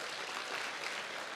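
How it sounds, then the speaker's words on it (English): At the Los Angeles Police Museum gala, guests give a brief, even burst of applause for first responders and firefighters, a dense wash of clapping lasting just over a second. "Please, huge round of applause for those folks who did an amazing job"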